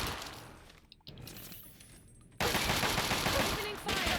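Gunfire in the Fallout 3 game, with rapid crackling shots that thicken into dense sustained automatic fire after a quieter opening, close and loud.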